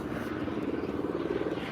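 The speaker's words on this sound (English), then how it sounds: "the helicopter, what now?" A helicopter flies overhead above a city street, a steady low rotor thrum with a faint pulsing beat, moderately distant and unbroken throughout.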